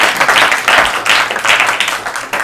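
A studio audience at an Urdu-language quiz programme claps for a contestant, loud, close, dense applause rising and falling in several quick bursts with no talking over it.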